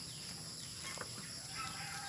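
Clucking of a mother hen on a farm, soft and low, a few scattered clucks against a steady background hum without any talking.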